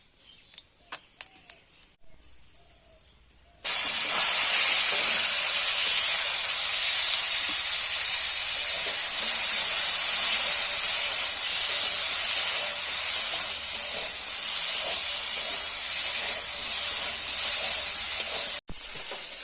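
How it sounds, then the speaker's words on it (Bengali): Potatoes frying in hot oil in a wok, a steady loud hiss and sizzle that starts abruptly after a few quiet seconds of light clinks and continues evenly to the end with a brief drop near the close. "প্রথমে আলুটাকে ভেজে নেব।"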